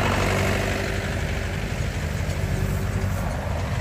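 A tractor engine runs out on a Punjab farm field, a loud, steady low rumble close by, constant throughout with no pauses and no voices.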